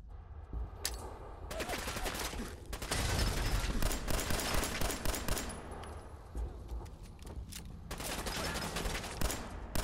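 Dense, continuous automatic fire in Fallout 4, a machine gun rattling loud and near for nearly ten seconds with overlapping shots and brief dips in intensity, a busy firefight without speech.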